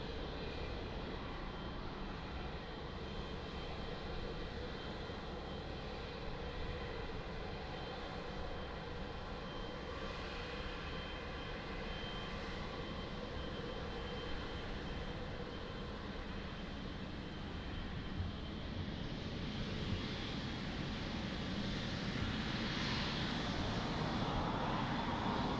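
Large airliner engines roar steadily at Lisbon Airport, a loud sustained jet drone holding for nearly half a minute and swelling slightly toward the end, with no voices.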